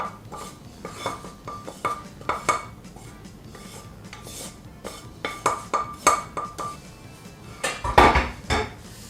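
Potatoes, buckwheat and onion mashed in a pot for a lenten potato pie, heard as irregular close scraping and knocking of the masher against the pot, with a louder clatter near the end and no talking.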